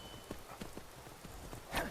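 Horse hooves clip-clopping in the Skyrim video game, a steady trotting rhythm of soft thuds at moderate distance, with no talk over them.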